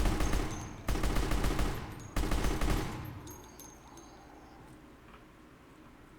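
AK rifle fired in a video game, two loud bursts of rapid automatic fire in quick succession, then quieter ambient game noise with faint ticking for the remaining seconds.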